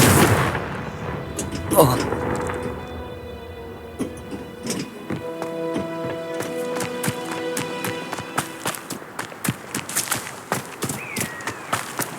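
A Confringo fire spell cast in Hogwarts Legacy: a sharp, loud whooshing burst near the start, followed by a string of crisp, rhythmic impacts and clicks, with a voice speaking over parts of it.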